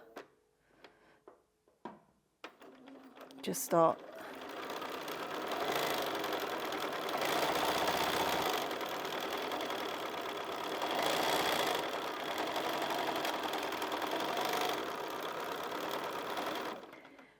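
A sewing machine runs steadily for free motion quilting with a BSR stitch regulator, a continuous mid-pitched mechanical whir that rises and dips slightly with fabric movement, after a few brief clicks and taps.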